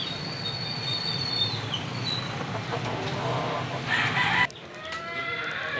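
A Peruvian fighting rooster calls steadily from close by, its voice mixed with broad background noise and a sudden shift in the ambience near the end.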